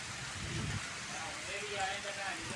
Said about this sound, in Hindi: बड़ी तेज बारिश लग गई है।